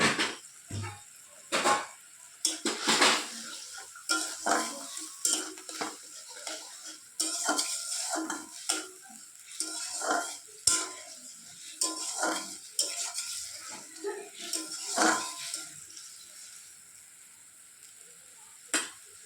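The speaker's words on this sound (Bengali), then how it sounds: "আর লবণটা দিয়ে দিচ্ছি, দিয়ে এটাকে কষিয়ে নেব।" Masala with chili powder and salt sizzles and frying in a pan, with bursts of scraping and stirring from a utensil, close and fairly steady over about twenty seconds, softening near the end.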